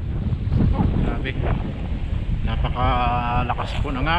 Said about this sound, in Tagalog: napakalakas po ng hangin, tapos walang ibon